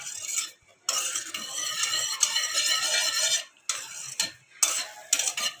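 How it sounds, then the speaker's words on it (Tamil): A spoon stirs coconut milk boiling and foaming up in a pot for homemade coconut oil, giving a loud, close, continuous scraping and bubbling sizzle broken by brief pauses. "இந்த டைமில் நல்லா கலக்கிக்கணும்."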